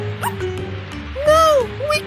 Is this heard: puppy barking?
yes